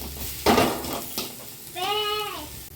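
Onions fry gently in a little oil for a sponge gourd mash. A soft sizzle is broken by a couple of stirring scrapes, and then a bleating animal cries out nearby.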